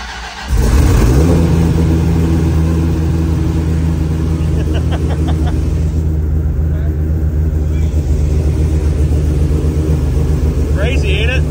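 A street-legal twin-turbo V10 Dodge Viper race car idles loud and close, a steady deep engine rumble with a brief rev, holding evenly throughout with no voices over it.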